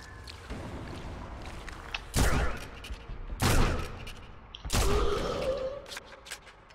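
Gunfire in Sniper Elite V2 in a desert setting: three sharp, loud rifle shots spaced a second or so apart, each with a booming tail, over faint background ambience and shuffling.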